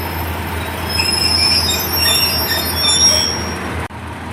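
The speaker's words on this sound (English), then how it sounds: "Right, departing out now, I think," A Class 142 passenger train departs from a station, its wheels squealing high and continuously against the rails over a low rumble, loud and close until the sound cuts off sharply near the end.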